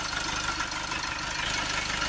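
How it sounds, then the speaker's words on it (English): A Mercedes Vito 2.1 CDi diesel engine, on a London taxi, idling steadily with a constant mid-range drone, heard close and alone. "We'll do this one while the engine's running."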